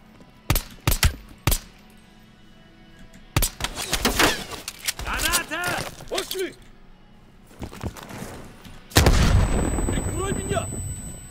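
Live-ammunition gunfire in the Call of Duty Cold War video game, with sharp isolated shots at the start and then dense clusters of loud rifle bursts. A final heavy blast comes near the end, followed by a high ringing tone.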